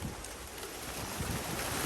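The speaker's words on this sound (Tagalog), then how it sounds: "Yan lakas ng hangin." Strong wind blows outdoors in a constant, loud, roaring rush that buffets the microphone for the whole short moment, with no voices.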